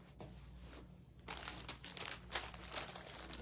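Backing paper peels off a sticky pumpkin craft kit piece with a close, crinkly tearing rustle that swells after a quiet start and carries on in uneven crackles.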